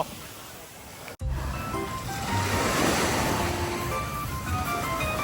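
Sea waves wash steadily onto Jomtien beach in Pattaya, a broad continuous surf roar with some wind buffeting after a brief dropout near the start.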